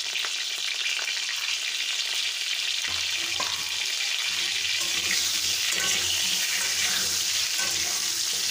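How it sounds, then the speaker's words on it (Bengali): Potato pieces coated in turmeric and salt fry in a pan for a mutton and potato curry. A loud, steady sizzle runs throughout, with occasional stirring scrapes. "হলুদ লবণটা দিয়ে আলুটা ভালোভাবে ভাজব।"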